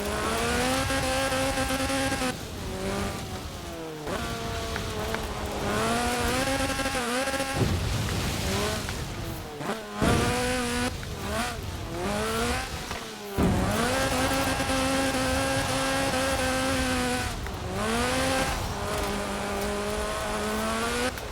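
A Lotus car fitted with a 2.2-litre slant-four engine producing 250 horsepower, racing in Forza Horizon 4, revs hard through repeated rising gear pulls and shifts, loud and continuous with occasional tyre squeal and no talk.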